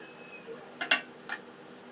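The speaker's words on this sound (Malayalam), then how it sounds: "ഇനി ഇഞ്ചിയും നന്നായിട്ടൊന്ന് ഇതിൻ്റെ കൂടെ ഇട്ട് ഇളക്കി കൊടുത്ത് ചൂടാക്കുക." Garlic and ginger stirred in a hot pan, with a few brief metallic scrapes and taps of a spoon against the pan, quiet and close, with a faint background hum.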